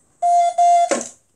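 A toy safe left open gives two sustained electronic beeps in quick succession, loud and close, followed by a brief rattling clatter.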